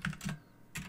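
Fingers type on a computer keyboard in a few quick, close bursts of clicking keys with short pauses between, alone and fairly quiet.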